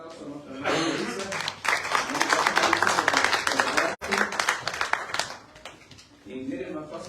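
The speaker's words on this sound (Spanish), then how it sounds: "denle un aplauso a nuestra hermana Marisa" An audience claps in applause for a sister named Marisa at a church Bible study gathering, a dense burst of many hands that swells, breaks off briefly, then resumes and tapers.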